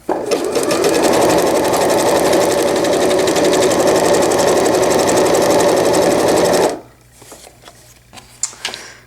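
A sewing machine stitches a fold-over-elastic diaper cover in a fast, steady whir for about seven seconds, then stops abruptly, leaving faint handling noises and small clicks.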